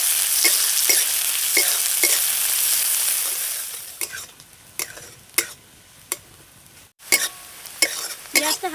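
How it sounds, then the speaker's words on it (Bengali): Chopped onions and two bay leaves fry in hot oil with a steady, loud sizzle that eases off partway through, then a ladle scrapes and stirs the pan in a series of sharp, irregular strokes. "হালকা করে ভেজে নেবো পেঁয়াজটাকে"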